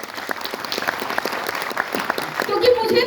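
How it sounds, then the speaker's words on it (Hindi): An audience at a motivational event applauds, with dense crowd clapping throughout and a voice talking over it toward the end. "मैं एक बार उनके लिए तालियां चाहूंगी"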